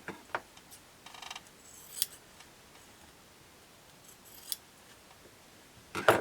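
Sharp scissors snip through sewn cotton quilt strips for a table runner, giving a handful of quick, crisp cuts spread across a quiet room, including a short burst of rapid snips and a louder pair of cuts at the end.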